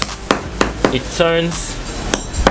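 Repeated sharp mallet strikes crack rhinestones on stoned lace at an uneven pace, with a brief ringing metallic tone in the middle and a short spoken phrase.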